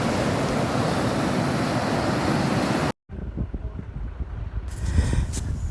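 The Mkuzi River in heavy flow above the Mkuzi Falls near Pongola gives a loud, steady roar of rushing water, broken by a brief dropout before a rougher, gustier wash continues with wind buffeting.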